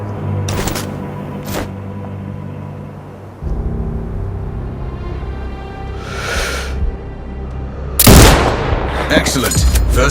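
Loud sniper rifle shots in the Sniper Ghost Warrior Contracts 2 video game, a few sharp booming cracks spread across the span over a rumbling ambient game background, with a burst of echoing report near the end.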